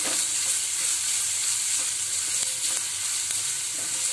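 Sliced onion and long-cut green chilies sauté in hot oil in a pan for a drumstick-leaf bhaji, giving a bright, continuous hiss of frying with a few soft scrapes of stirring, close and steady throughout.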